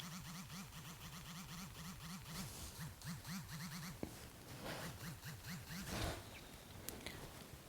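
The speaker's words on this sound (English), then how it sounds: "the keyboard, the haptic feedback sounds insanely bad" OPPO F11 Pro phone keyboard haptic feedback held up to a microphone, a quiet rapid buzzing that pulses in a wobbling, warbling rhythm, mixed with faint scratchy rustling and a couple of sharp clicks.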